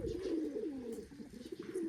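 Old resident pigeons coo in a low, rolling, warbling call that swells and fades, soft and nearby, with no talk.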